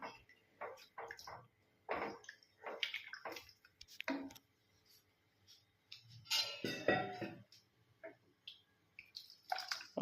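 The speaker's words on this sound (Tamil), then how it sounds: "இந்த சாம்பாருக்கு எவ்வளவு லிக்விடாக இருக்கணுமோ உங்களுக்கு தெரியும் இல்லையா அது இந்த அளவுக்கு நீங்கள் தண்ணி ஊற்றிக்கோங்க" Water is poured into a pot of hotel-style tiffin sambar, with intermittent splashing and trickling bursts at a quiet level and short gaps between pours.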